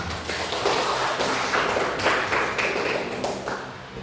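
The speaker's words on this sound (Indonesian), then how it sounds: "Beri aplaus buat mereka." Applause from a seventh-grade classroom in Indonesia, with steady overlapping claps from many students, close and fairly loud, holding through the whole stretch and thinning slightly near the end.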